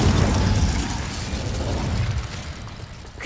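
An Incendio fire spell cast in the Hogwarts Legacy video game: a loud, dense roaring whoosh with crackling bursts, strongest at the start and tapering slightly across a few seconds.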